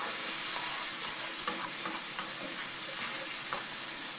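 Meat juices from salted meat pieces sizzle steadily in a frying pan while being stirred and scraped, with a continuous close crackle and soft clinks of the utensil throughout.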